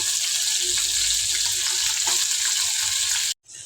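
Baim eels coated in turmeric sizzle steadily in hot oil, a continuous close frying hiss that runs loud and even before cutting off abruptly near the end.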